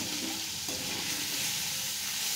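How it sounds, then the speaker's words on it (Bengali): Paneer cubes frying in a pan, a steady close sizzle with faint stirring scrapes, continuous and even with no voices. "ওই পনিরটা এখন ভাজছে"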